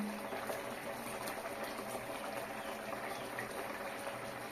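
Doi katla, a Bengali curd-based katla fish curry, boiling in a pot: soft, steady bubbling and gentle liquid churning, faint and continuous, with no talk.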